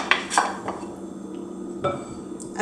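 A utensil mixes flour with baking powder and a pinch of salt in a bowl for a pudding chômeur, giving scattered clinks and scrapes against the bowl at an irregular pace, close and fairly clear.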